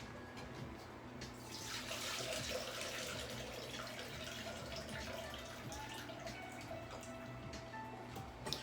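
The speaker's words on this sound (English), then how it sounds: "we're going to pour the water off our potatoes" Water from boiled potatoes being poured off, a soft continuous splashing and trickle, fairly quiet and steady with no talk.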